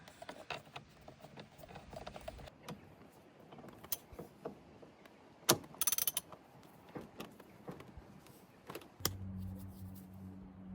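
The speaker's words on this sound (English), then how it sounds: "Let's get the bolt back in." Bolt being threaded and tightened back in during a wiper stalk replacement on a BMW E46 steering column, heard as close, irregular mechanical clicks and ratcheting taps with a few sharper knocks, no talking.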